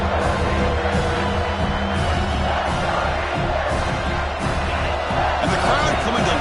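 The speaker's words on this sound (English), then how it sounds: "And the crowd coming to life here" A college football stadium crowd roars steadily late in a game against Alabama, a dense, continuous wash of cheering with a commentator talking over it.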